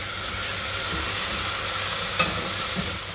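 Tomatoes go into a hot pan with cumin for chicken kabsa, bringing a steady, dense sizzle with a brief spatter near the end and no voices.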